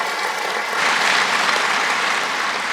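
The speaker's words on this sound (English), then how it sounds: "A round of applause to all the panelists and moderators." Applause for the panelists and moderators at the close of a land forces commanders symposium: a dense, steady wash of clapping from a large audience that swells slightly partway through and carries on without a break.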